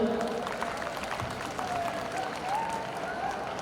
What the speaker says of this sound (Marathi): आपण सर्वांनी टाळ्या वाजवायच्या